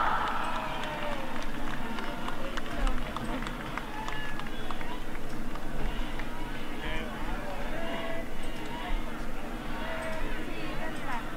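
Large outdoor political rally crowd in Juárez, Chihuahua, applauding and cheering for Claudia Sheinbaum as a steady, dense roar of clapping and voices across the whole stretch, with a loudspeaker voice faintly mixed in.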